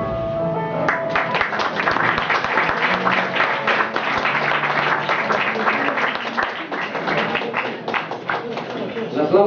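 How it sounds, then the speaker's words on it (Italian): An audience applauds after a reading at a book presentation, with dense, sustained clapping from a crowd that holds steady throughout and carries a faint hum of voices underneath. "L'applauso chiaramente in questi casi è rivolto sia alla voce, provetto, sia chiaramente a chi ha scritto le parole"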